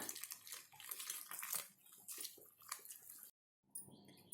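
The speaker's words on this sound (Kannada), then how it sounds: "ನಂತರ ನೀರನ್ನು ಹಾಕೊಂಡು ಬೋಂಡ ಹಿಟ್ಟಿನ ಅದಕ್ಕೆ ಕಲ್ಸ್ಕೊಳ್ಳೋಣ" Water is poured into bonda batter made with ridge gourd and ghee and stirred in a bowl, giving a close, continuous splashing, sloshing wash that cuts off abruptly near the end, then resumes faintly.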